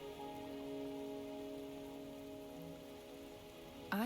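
Rain falling in the Wuthering Waves video game, a soft, steady patter of drops on surfaces with a faint tonal hum beneath, even and unbroken before a brief sharp noise at the very end.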